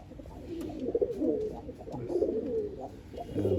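Pigeons cooing steadily in a loft, overlapping throaty coos from several birds close by, continuous and fairly loud throughout with no talking.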